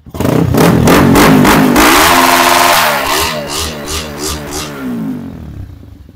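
A dirt bike engine with its stock factory exhaust revs loudly and close, roaring up in sharp bursts, then drops to a rough, sputtering idle before cutting out.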